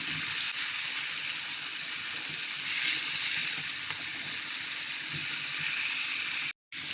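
Tandoori chicken tikka fries on a high flame, producing a loud, steady close sizzle with crackling bursts throughout, briefly cut off near the end.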